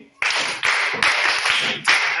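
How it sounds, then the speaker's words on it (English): A group of children in a classroom literacy lesson claps together in loud, close bursts. Each burst lasts under a second, and fresh waves of clapping start in quick succession. "Let's clap for him."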